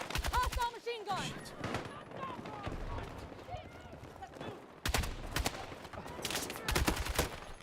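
Machine gun fire from a video game rattles in fast bursts at the start and again in the second half, loud and close, with a quieter stretch of game noise in between.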